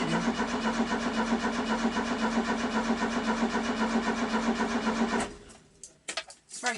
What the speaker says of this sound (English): It's very possible I flooded the engine.